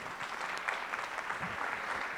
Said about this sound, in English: A big clap for her, please.